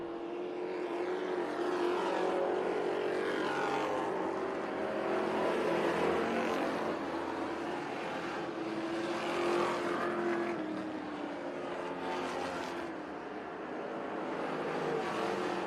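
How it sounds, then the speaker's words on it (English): A street stock race car pulls out of the pit area at a dirt track, its engine a steady droning roar that swells and fades slightly as it moves, heard at a moderate distance with no voices. "See Mike Duggan trying to make his way out of the pit area with the 92."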